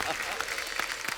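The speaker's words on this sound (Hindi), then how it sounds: "एक बार जोरदार तालियां हमारे मेहमानों के लिए" Loud, dense applause from a studio audience welcoming guests onto a comedy show, a continuous roar of many clapping hands with a voice speaking over it.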